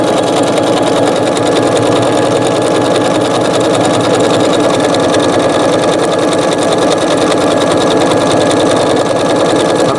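A sewing machine stitches with Gutermann thread, a loud, steady rapid chatter of the needle mechanism running continuously up close without pause or talk.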